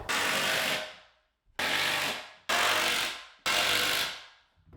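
A power driver sinks 3.5-inch screws into wooden support boards of a work table for a laser engraver, four loud ratcheting whirs, each rising then tapering off, separated by short pauses.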